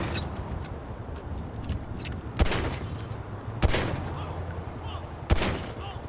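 Gunfire aimed at a vehicle in GTA 5, three sharp, loud shots spaced a second or more apart over a steady background hum.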